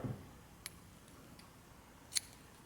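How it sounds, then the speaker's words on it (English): Scissors snip through crochet yarn while finishing a hexagon cardigan, a quiet short snip followed later by a sharper single cut, faint and close. "Chain 1 and cut your yarn"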